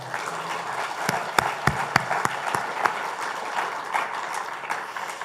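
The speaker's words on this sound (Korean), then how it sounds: "우리를 인도하신 하나님께 감사와 영광의 박수 올리겠습니다" A church congregation at a Sunday service at City Mission Church breaks into sustained applause, a thick roomful of clapping with a few sharp, loud individual claps standing out near the start.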